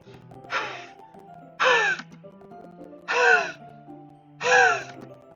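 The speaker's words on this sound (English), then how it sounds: "It sounds like breathing. Sharp inhale, like someone is sucking the air through their teeth." Four sharp, hissing inhales drawn through teeth, evenly spaced about a second apart and alone over quiet background, from the Doki Doki Literature Club video game.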